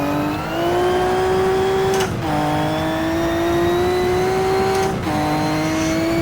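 Maserati 250 race car engine pulling hard in second gear, a loud steady drone that climbs in pitch, cuts briefly at about two seconds and again near five for gear changes, then rises again.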